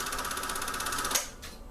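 A Sankyo Sound 600 film projector auto-threading film, giving a steady rapid mechanical clatter that runs evenly for about a second before a sharp click as the mechanism stops, then a brief quieter whir.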